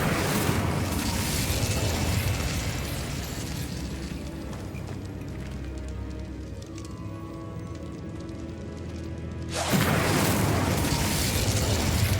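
An Incendio fire spell in Hogwarts Legacy lets out a loud, roaring burst of flame that fades to a low rumble, then flares up again near the end.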